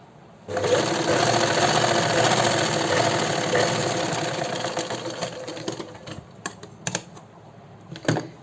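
An electric sewing machine runs steadily for several seconds stitching piping onto a sleeve, then slows and stops with a few brief clicks and handling sounds.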